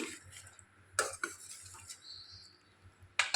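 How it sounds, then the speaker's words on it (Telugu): A spoon stirring palak paneer in a pan, with a few distinct clinks and scrapes against the metal over a faint simmering background, close and fairly quiet. "ఇప్పుడు మరొకసారి జాగ్రత్తగా కలుపుకొని"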